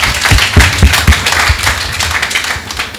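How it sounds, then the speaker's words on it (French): An audience at a school talk on language learning claps in scattered, uneven bursts, a handful of sharp nearby claps standing out over a soft background of applause, with no speech. "Sous vos applaudissements"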